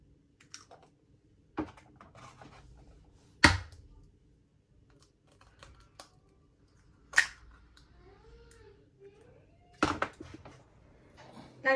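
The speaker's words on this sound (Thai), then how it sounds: "ตอกไข่ลงไปในจานเลยนะคะ" A few sharp, isolated taps and cracks spaced seconds apart in a quiet room, consistent with an egg being cracked against a plate.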